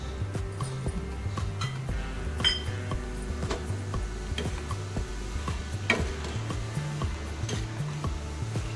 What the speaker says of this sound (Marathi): आता आपल्याला हे डाळवं टाकायचं आहे